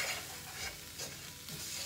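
Spices and lamb being stirred in a pan for rogan josh, a faint continuous sizzle with soft scraping strokes of the spoon, quiet and close, no talk.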